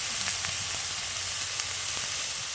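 Fenugreek greens seasoned with salt and turmeric are stir-fried in a pan, keeping up a loud, continuous sizzle with faint intermittent stirring taps.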